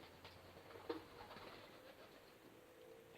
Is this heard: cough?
no